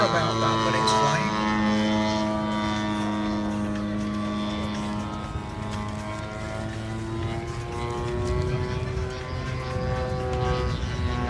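A model Spitfire flies at the LMA Elvington airshow, its piston engine a steady drone with rising and falling pitch as it passes, heard at a distance, with crowd murmur and talk in the background.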